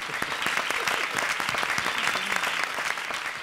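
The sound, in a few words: audience applause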